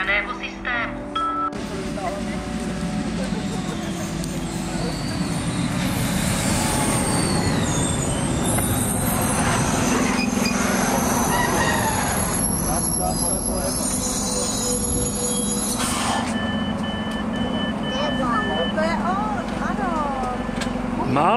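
Train passing on rails, a loud continuous rumble of wheels with screeching squeals rising and falling as the cars roll by close, while people talk over the noise.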